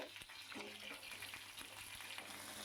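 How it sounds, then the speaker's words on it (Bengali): Potatoes fry in hot oil over a high flame for a vegetarian eggplant dish, producing a soft, steady sizzle broken by occasional stirring scrapes and clicks. "আলুগুলোকে এই সময়টা একটু হাই ফ্লেম করে একটু ভেজে নিতে হবে"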